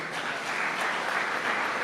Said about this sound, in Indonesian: Tepuk tangan untuk Muslimat.